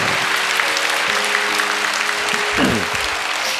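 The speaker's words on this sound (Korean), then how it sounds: "우리 박수로 축복하고 격려하겠습니다" Steady applause from a church congregation after a classical music performance, a dense wash of many hands clapping at a sustained level throughout, with faint tonal sounds in the background.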